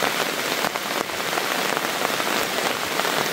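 Heavy, constant rain pours down in a rural setting, a close, even wash of drops striking surfaces without a break.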